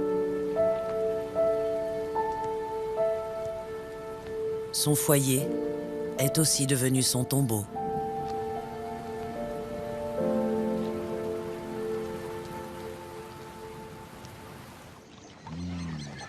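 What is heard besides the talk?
rain falling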